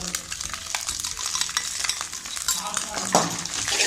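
Vegetables with salt are stir-fried in a hot pan, giving a close, steady sizzle with quick scraping strokes of a spatula against the metal and a few light clinks.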